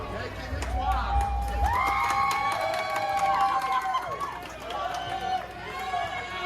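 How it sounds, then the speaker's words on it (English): Wrestling crowd in Huntsville, Alabama cheers and shouts in a sustained, loud roar with rising whoops, while a commentator talks over it. "As the crowd here in Huntsville, Alabama shows their approval"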